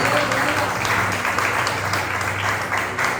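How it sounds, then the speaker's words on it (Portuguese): Church congregation applauding during a sermon, a steady, dense wash of clapping that fills the room at a loud, even level throughout with no pauses. "Você pode dar uma salva de palmas para Jesus?"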